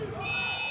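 A basketball game buzzer sounding during a BC Loyers versus BC Kortrijk match, a steady tone held under an announcer's voice and arena noise.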